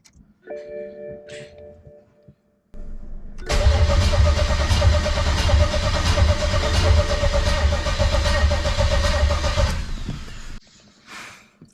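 A forged BMW N54 engine cranks over on a jump pack, then roars loudly and steadily for several seconds before cutting off, all heard up close.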